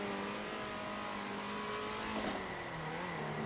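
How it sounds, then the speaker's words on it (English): Ferrari 458 GT3 racing engine heard onboard at Zolder in a racing video game, a steady sustained engine tone with smooth pitch shifts and a brief sharp burst partway through, with no voices. "I was in the 458, so you get to hear proper engine sound."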